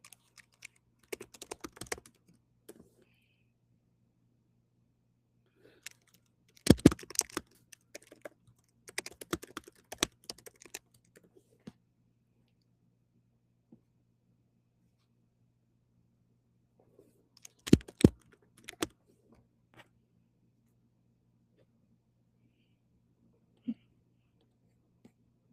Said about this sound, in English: I'm sitting here communicating by typing.